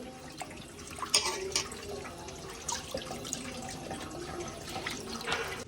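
Water draining off soaked rice, a soft trickling and splashing with small irregular bursts, fairly close and moderately quiet.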